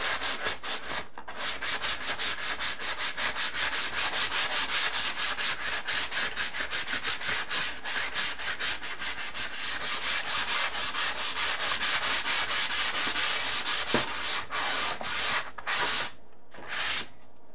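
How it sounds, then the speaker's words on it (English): Drywall is sanded with a fine sanding sponge in rapid, continuous back-and-forth rubbing strokes, close and loud for a long stretch, with a few brief pauses near the end. "So I'm going to start with the fine sanding sponge."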